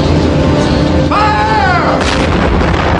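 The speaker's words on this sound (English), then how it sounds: "Give him a broadside." Warship cannon broadside in a 1991 Ironclads film battle scene: a continuous loud roar of heavy gunfire and booming blasts, with a whistling, wavering tone rising briefly above the din.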